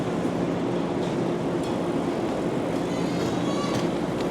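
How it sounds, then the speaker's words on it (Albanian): A commuter train rolls through Grand Central in New York with a steady, rumbling rail roar in a large station space. Faint voices sit in the background. "trena në oraret ndryshme që lëvizin nga kjo zonë e Grand Centralit në drejtim të periferisë New Yorkut"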